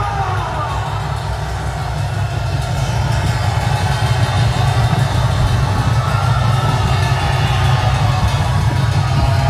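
A church rally crowd gives a standing ovation, sustained applause with cheering and whoops that fills the space steadily and loudly from start to finish.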